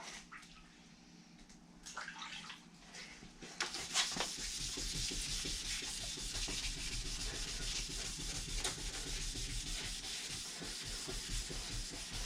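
An 800-grit sandpaper wet-sands a car body before a wrap, rubbing in a steady, continuous rasp with a hiss of water that starts softly and stays dense and even from about four seconds on.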